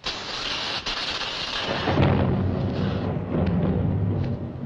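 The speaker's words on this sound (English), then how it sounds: "It's only a thunderstorm like we get back on Earth." A thunderstorm rumbles with a loud, close roll of thunder that swells midway and continues over a dense wash of heavy rain, all with no voices.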